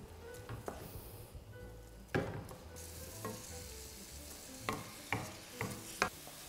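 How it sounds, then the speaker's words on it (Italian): Chopped onion stews in oil in a frying pan, with a steady soft sizzle and occasional sharp scrapes and taps of stirring, close and alone without talk. "Metto in una padella un po' di olio e ci metto la cipolla a stufare."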